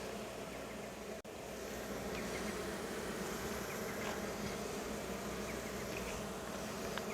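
Honey bees in a top bar hive being inspected, damaged combs in view, make a continuous close buzzing drone with a brief dip near the start; the hum stays low in level and no one speaks.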